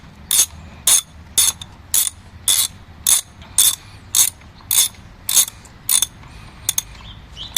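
A ratchet wrench tightens a TPS sensor on a Nissan K4M engine, giving about eleven evenly spaced bursts of sharp metallic clicking, close and loud, with no talk.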